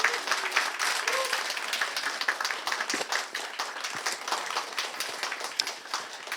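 Steady audience applause in a hall at a classical charity concert evening in Incheon, a dense, continuous clapping from many people, fairly close and loud, lasting throughout without speech.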